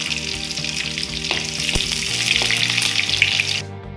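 Onions hit hot oil already crackling with mustard seeds and curry leaves for a tamarind bean curry, a loud, dense, steady sizzle close by with a couple of sharp pops, cutting off abruptly at the end, no voices.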